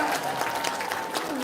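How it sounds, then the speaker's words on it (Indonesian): A small studio audience claps briefly during a talk-show segment, a short patter of hands mixed under ongoing conversation, fairly close and moderate in level. "tepuk tangan dong Bu"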